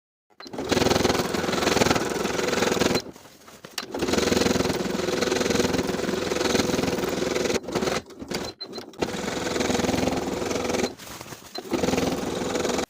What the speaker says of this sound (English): Then stitching from the front side with about an 1/8 inch seam allowance from the main seam, stitch all the way around.